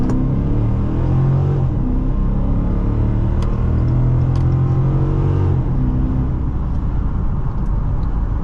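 A 2019 Dodge Charger Police 5.7 AWD accelerates, its V8 giving a loud, steady, deep rumble that builds and swells from inside the cabin.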